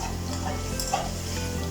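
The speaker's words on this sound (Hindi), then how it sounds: "देखें अच्छी तरीके से सारा गोश्त फ्राई हो चुका है" Beef pieces frying with cumin and spices in a pan, a steady close sizzle with a soft stirring scrape partway through, brief and continuous without any talking.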